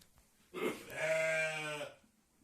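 A ewe that has just given birth gives one long, wavering bleat at close range, lasting about a second and a half before stopping, with quiet surroundings before and after.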